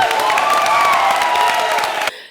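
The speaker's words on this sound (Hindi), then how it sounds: "तालियां।" A comedy show audience bursts into applause and cheering, a loud continuous wash of clapping with whoops that cuts off abruptly near the end.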